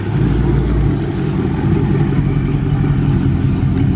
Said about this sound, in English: there goes my car right there